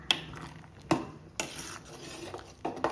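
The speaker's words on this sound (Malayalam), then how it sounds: "നമുക്കൊന്ന് ഇളക്കി നോക്കാം" Ash gourd curry stirred in a pot with a spoon: several clanking knocks of metal against the pot with soft scraping in between, close and clear, at a slow uneven pace with no talking.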